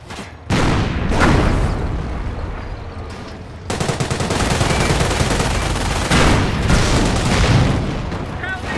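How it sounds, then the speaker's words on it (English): Panzer tank firing in Company of Heroes, loud heavy booming shots with sharp onsets and long rumbling decay, spaced out at a slow rate amid ongoing battle noise. "Notice the Panzer's slow rate of fire."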